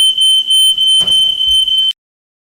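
A smoke alarm in a kitchen sounds a loud, steady high-pitched beep for about two seconds and then stops abruptly, with faint kitchen clatter underneath.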